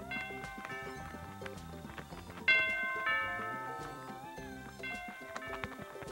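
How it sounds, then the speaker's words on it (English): Chiming doorbell tones ring out in sequence over a light musical backdrop, with a brighter, louder chime partway through. "try ringing each of these doors' doorbells"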